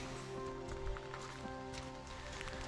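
Light rain falls in Borrowdale in the Lake District on a misty hillside, giving a steady, soft, even patter throughout with no voices.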